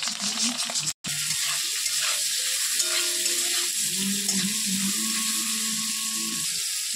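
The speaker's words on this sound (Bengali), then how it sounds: "একটু ভাজা ভাজা হলে নামিয়ে নেব।" Bitter gourd is fried in hot oil with salt and a little turmeric, giving a steady, dense, close sizzle throughout with faint stirring scrapes.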